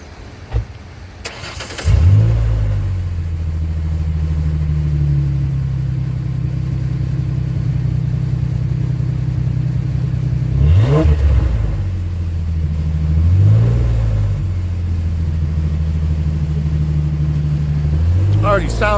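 A truck engine fitted with a new Kool Blue air filter starts with a sharp click, then idles loudly and steadily up close, with three brief revs rising and falling across the run.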